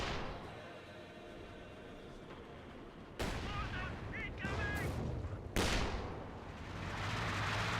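Panzerwerfer rocket artillery fires in the WWII strategy game Company of Heroes 2, sharp booming launches and blasts cutting over a dense battle din of gunfire and engine rumble, with game voices briefly heard.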